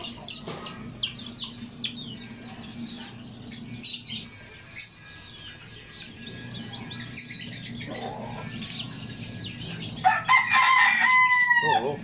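Chickens cluck and chirp on and off in a yard with a rooster crowing loudly near the end, the calls fairly close over a low steady background hum.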